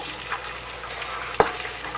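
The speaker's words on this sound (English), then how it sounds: "You want it to start smoking up before you put your onions in." Onion hitting smoking-hot oil for an egusi stew with goat meat hisses in a steady, moderately loud sizzle, with one sharp pop and spatter partway through.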